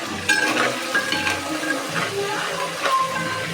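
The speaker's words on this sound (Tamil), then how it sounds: "பூண்டு நல்லா வதங்கட்டும்." Garlic fries in hot oil with a close, busy sizzle and crackle, with light stirring and a few metallic clinks from the pan.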